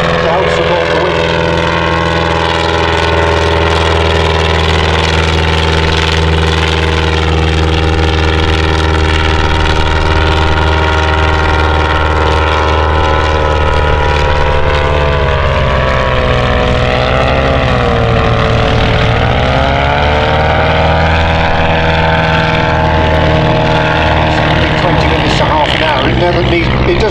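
Engine of a vintage Bristol Boxkite aircraft at an air show, a steady droning hum that holds at constant strength throughout, with a voice commenting over it.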